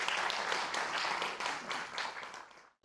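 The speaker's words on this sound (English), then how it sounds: "So a huge round of applause for everybody" An audience at an animation event inauguration gives a loud, steady round of applause with dense clapping that holds for a couple of seconds, then cuts off abruptly.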